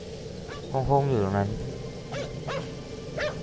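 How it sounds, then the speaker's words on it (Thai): A dog in a video game barks and yips a few times, with a drawn-out whining bark early on, while a person talks over it. "นี่เสียงหมานะครับ"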